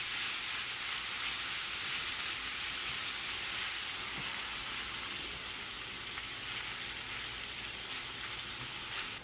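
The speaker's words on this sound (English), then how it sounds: "While your veggies are cooking, you can also cook your beef mixture." A beef mixture sizzles in a pan preheated to 350 degrees with no added oil, cooking in its own fat for chili: a steady, loud, hissing fry that carries on evenly throughout, with no talking.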